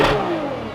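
McLaren 570S sports car engine revving, a single loud close rev that falls away over under a second, with no talk.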